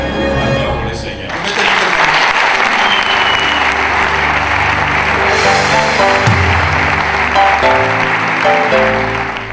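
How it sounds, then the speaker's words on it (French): A church congregation at a Sunday service bursts into loud, sustained applause, many hands clapping densely together with voices and cheers mixed in close by. "Acclamons le Seigneur."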